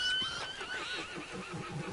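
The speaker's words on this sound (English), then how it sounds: "What's the horse freaking out about?" A horse in Red Dead Online neighs and whinnies in an agitated, drawn-out call, with a high wavering cry and snorting breaths filling about two seconds at close range.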